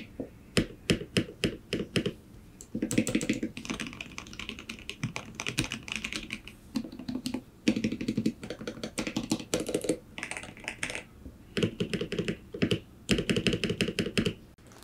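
Rapid clacking of a Gamakay K87 mechanical keyboard being typed on, close and crisp, in uneven bursts with brief pauses between.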